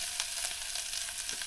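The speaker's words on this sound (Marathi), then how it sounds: "आपण आता ही अंड्याच्या कालवणाला फोडणी देत आहोत" Spices for an egg curry sizzle steadily in hot oil with turmeric, chilli and garlic, giving a faint, continuous crackling fry with small pops.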